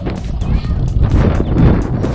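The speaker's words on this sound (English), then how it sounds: "It's a little windy." Strong gusts of wind on Martha's Vineyard buffet the microphone with a loud, rumbling roar that rises and falls throughout.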